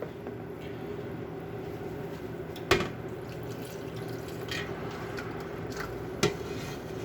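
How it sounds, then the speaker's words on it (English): Brown beef stock poured into a pot in a high school hospitality kitchen, a soft continuous liquid splash and trickle with a couple of brief clinks of the pan, no one talking. "I'm going to take that and pour the rest of that in there."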